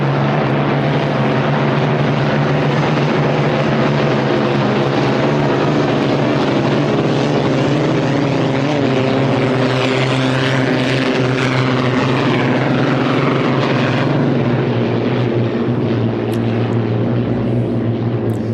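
Vintage unlimited hydroplane race boats, including a 1979 and a 1973 boat, run on the water at a Seattle Gold Cup exhibition, giving a loud, steady, droning engine roar that holds throughout with no talk.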